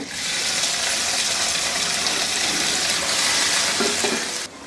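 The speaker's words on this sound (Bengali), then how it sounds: "রসুনটা একটু হালকা বাদামি দাগ লাগা শুরু হলে আমি এর মধ্যে দিয়ে দিচ্ছি একটা চিকেনের ব্রেস্ট" Small pieces of chicken breast fry with lightly browned garlic in a pan, a loud continuous sizzle filling the whole span up close, with a few faint clinks near the end.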